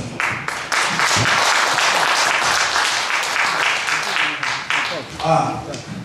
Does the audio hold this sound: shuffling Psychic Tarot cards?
no